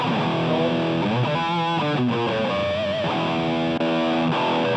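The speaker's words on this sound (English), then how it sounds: "kind of a lead distortion tone," Electric guitar on a lead distortion tone through a Boss GT-8 multi-effects processor, saturated sustained notes and bends with a thick gritty edge, played alone and loud.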